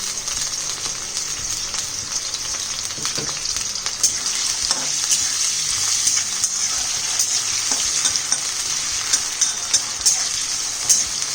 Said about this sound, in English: Allow these to fry till they are perfectly golden brown and crisp